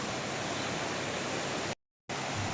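Forceful stream water rushes after heavy rain in a steady, dense, even roar that fills the whole clip, broken by a brief cut to silence.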